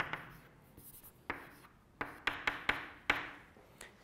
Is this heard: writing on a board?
yes